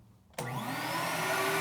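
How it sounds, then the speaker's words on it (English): A vacuum record-cleaning machine switches on abruptly, its motor rising at once into a loud, steady, close whine and rush that holds without any talk. "We're going to turn on the vacuum and then I'm going to turn the record around."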